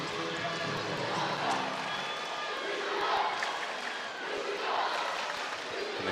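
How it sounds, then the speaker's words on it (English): A large indoor crowd at a Japan versus Canada men's volleyball match keeps up a steady roar, with rhythmic clapping or chanting pulses rising and falling over several seconds. A commentator's voice sits partly under it. "And the crowd here chanting his name."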